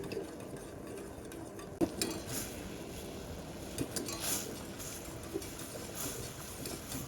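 Clear agar pudding stirred in a pot just off the heat: soft, steady scraping and swirling with a few light clinks of a utensil against the pot, close and quiet throughout.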